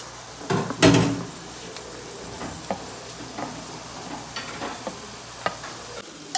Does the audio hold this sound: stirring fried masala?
yes